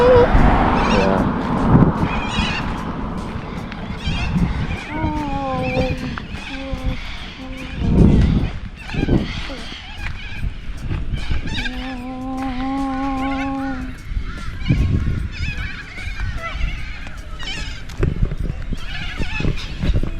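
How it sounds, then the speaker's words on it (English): A flock of birds honk and call loudly in overlapping bursts, some harsh and nasal, over outdoor background noise in Casino, New South Wales, Australia. "When these birds start to make noise, trust me, it's not a beautiful sound anymore."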